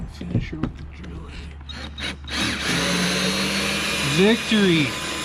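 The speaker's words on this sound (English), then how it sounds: "Finish her with the drilling." A power drill whirs steadily while working on a Bass Tracker boat, its motor rising and falling in pitch after a few knocks and handling sounds, with someone speaking briefly.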